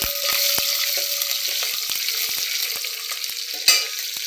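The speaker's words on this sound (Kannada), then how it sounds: "ಒಣಗಿರೋ ಮೆಣಸಿನ್ಕಾಯಿ ಹಾಕ್ತಾಯಿದ್ದೀನಿ." Dried red chillies and curry leaves sizzle in hot oil with mustard seeds and cumin for a tempering: a steady bright frying hiss broken by frequent sharp crackles and pops, with no voices.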